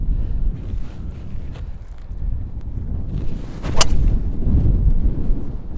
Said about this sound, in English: it's a strong wind today